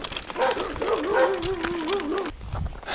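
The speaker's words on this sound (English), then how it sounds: "Whoa, why so many dogs in a monastery?" Several dogs bark and yip at a mountain monastery, a busy cluster of barks with a whining, wavering howl, heard close over the steady hum of an electric vehicle.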